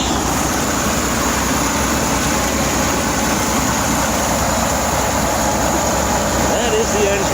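The rear-mounted engine of a 1963 Chevy Corvair Monza 900 idles in a steady low rumble, heard close and loud with the hood open, continuous and unbroken throughout.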